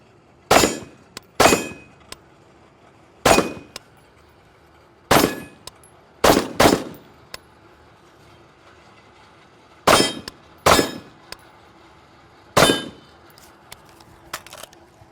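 Rifle shots ring out at outdoor moving steel targets, nine sharp cracks each followed by a metallic clang, spaced unevenly over the span with quiet gaps between, loud and close, no talking.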